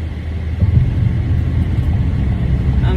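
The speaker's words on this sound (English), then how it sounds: "I'm driving and I'm on the highway." Steady, loud road rumble and whirring engine drone from inside a car cruising along a highway, continuous and unbroken with no voices.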